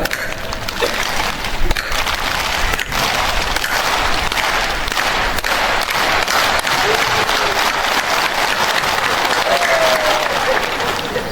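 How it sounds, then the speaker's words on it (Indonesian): An audience at a formal government ceremony in South Sorong claps along with a leader, a loud, sustained wash of hand claps with a few sharper individual slaps lasting over ten seconds. "Ikuti tepuk tangan saya."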